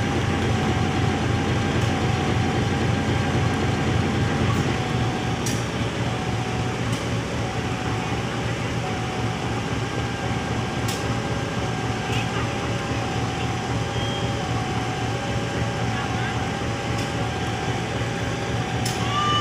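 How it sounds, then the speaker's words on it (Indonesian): A train locomotive shunting gives off a steady, loud mechanical drone with a constant low engine hum and occasional faint clicks, continuous throughout, with some voices in the background. "ini Pak Heri Yusuf sedang berdinas ya, melangsir."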